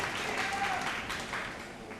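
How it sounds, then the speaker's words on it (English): Studio audience applause at a televised vocal competition show, a dense steady wash of clapping that fades slightly over two seconds, with no voices on top. "Could you have a massive round of applause, please, for PNG Air"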